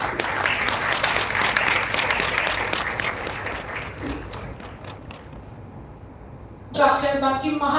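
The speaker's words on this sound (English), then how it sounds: "Let's have a huge round of applause for the welcome address by Dr. Mahanti" An audience at an inauguration ceremony for a national oratory contest applauds after a welcome address, sustained clapping that thins toward the end before a voice cuts in.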